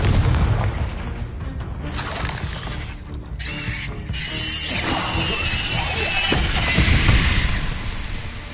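Explosive spell blasts from a fantasy wizarding action game, a dense mix of booming bursts, crackling debris and mechanical clatter that swells and recedes over several seconds, loud and busy with no voices.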